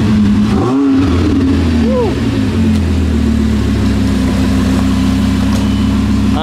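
A Lamborghini Gallardo's engine fires up and revs, with a quick rising snarl in the first seconds, then settles into a loud, deep, steady rumble heard up close.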